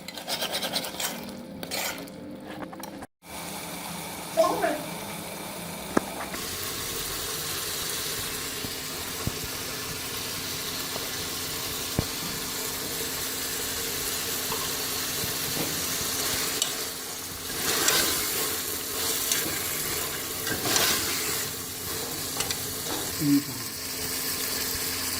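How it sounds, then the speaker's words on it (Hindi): Minced keema sizzles and fries in ghee, with steady crackle and repeated scraping stirs of a spatula against the pan throughout, no talking. "अब मैं इसको भूनती जाऊंगी। जब अच्छी तरह घी छोड़ देगा"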